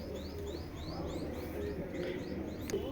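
Giribaz pigeons coo softly and fairly faintly, with repeated quick bird chirps over a low background murmur.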